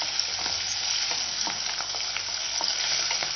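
Chopped green chilli sautés in a hot pan for a raw banana fry, giving a steady, close sizzle with occasional stirring scrapes and no talk.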